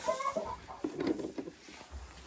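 Hen clucking inside an unheated henhouse beside the nesting boxes, a few soft, close clucks and murmurs in a short irregular run, with faint shuffling around them.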